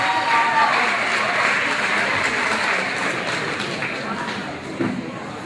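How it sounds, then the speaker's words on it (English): An audience at a presentation ceremony gives a warm round of applause to welcome two presenters, a thick wash of clapping that slowly fades, with some voices faintly beneath it. "Please give them a warm round of applause."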